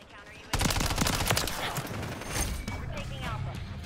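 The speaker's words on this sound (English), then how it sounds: "These decoy grenades are working." Rapid bursts of fake gunfire from decoy grenades in Modern Warfare 3, a dense, loud crackle of overlapping shots starting abruptly and continuing throughout, with game voices mixed in.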